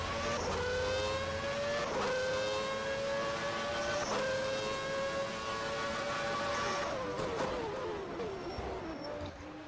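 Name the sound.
Williams Formula 1 race car with Renault engine on board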